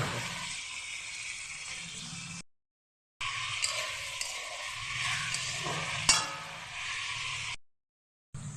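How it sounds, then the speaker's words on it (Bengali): Potato and cauliflower pieces fry in a pan, giving a steady soft sizzle broken by two brief silent gaps, with an occasional utensil clang close by and no voices. "আলু আর ফুলকপিটাকে ভালো করে ভেজে নিচ্ছি"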